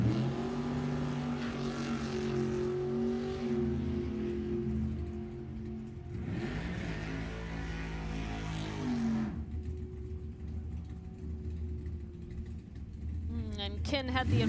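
A '67 Camaro and a '27 T drag race car at the Sacramento Raceway drag strip, engines rumbling and surging loudly with a rising launch roar midway, blended with crowd and commentary-like noise.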